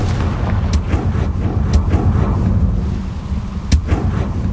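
Spell explosions in the Hogwarts Legacy video game, loud booming blasts over a dense, continuous rumble, with a few sharper impacts standing out at intervals.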